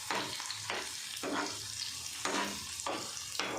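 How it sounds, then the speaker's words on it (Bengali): Dal being tempered in hot oil with onion, green chili and garlic, a steady close sizzle with repeated louder bursts of frying as ingredients are stirred in, and no voices. "এটা একটা ডাল ফোড়ন দিচ্ছি।"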